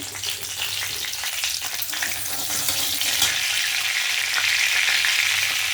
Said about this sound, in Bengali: এবার এই তেলেই আমি তেজপাতা, একটু জিরে ফোড়ন,